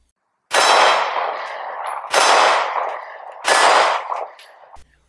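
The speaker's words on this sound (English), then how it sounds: "That is the Smith & Wesson M&P Shield, 9mm semi-auto" Three loud, sharp shots from a Smith & Wesson M&P Shield 9mm semi-auto pistol, each a hard crack with a ringing decay, spaced about a second and a half apart.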